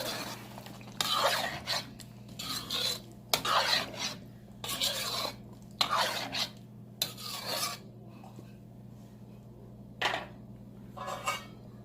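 Chicken masala being stirred in a pan after water is added, with a series of loud scraping, rasping strokes of a utensil against the pan, close and coming in rhythmic bursts over a low hum.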